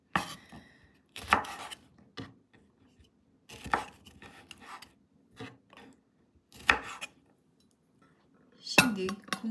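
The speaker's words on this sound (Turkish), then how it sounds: "ikiye bölerek doğrayalım" A knife chops through kumquats, cutting them in half on a board in separate, irregular cuts, each a crisp thud followed by quiet pauses.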